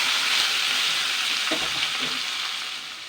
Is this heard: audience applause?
no